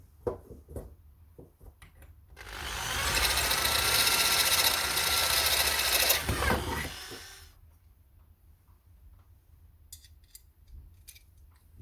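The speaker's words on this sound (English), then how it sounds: "I'm going to take a drill. I'm just going to open up these holes by 1/2 mil." A drill whirs steadily for about four seconds enlarging holes in metal plates, loud and close, then winds down, with quieter handling noises before and after.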